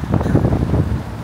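Strong winter wind buffets the microphone beside a heated outdoor pool in Brisbane, a loud continuous rumbling gust for the whole moment with no voices.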